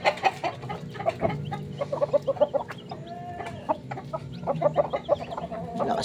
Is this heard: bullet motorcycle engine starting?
no